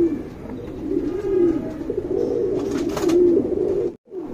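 A male racing pigeon coos close by in a low, throaty, continuous rolling call lasting a few seconds, then breaks off briefly at the end.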